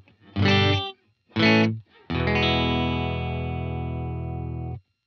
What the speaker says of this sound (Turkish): Önce temiz sinyali bir duyalım. Temiz sinyalim Dream 65'ten geliyor.